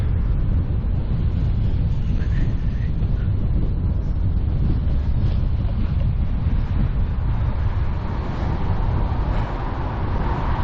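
Steady, heavy wind roars outdoors in the New Forest, buffeting the microphone with a constant low rumble and broadband rush across the whole stretch, no pauses.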